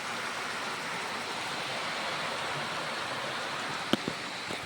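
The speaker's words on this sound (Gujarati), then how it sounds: "તો ગાઈસ તો આજનો વરસાદ બહુ ચાલુ છે વરસાદ ને" Steady heavy rain hisses at a farmhouse as a continuous wash of sound, broken near the end by a couple of brief sharp knocks close by.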